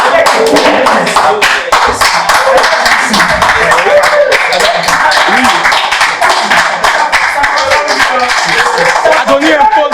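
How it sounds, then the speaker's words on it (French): Dense, close, loud clapping for a quiz contestant, steady throughout with crisp individual hand claps layered over murmuring voices. "Ça s'applaudit."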